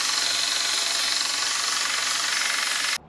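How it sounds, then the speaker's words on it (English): A power tool grinds old, lumpy, pitted rust off a trike axle down to bare metal. The noise is a loud, steady, harsh whir that runs for about three seconds and then cuts off abruptly. "I just need to clean up the axle, get all this old lumpy rust off, get it down to bare metal"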